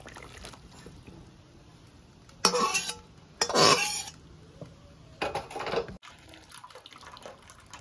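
Water being drained from steamed kochur loti (taro stolons) in a kitchen, a couple of short splashy pours and a clatter of a pot between quiet stretches, no talking.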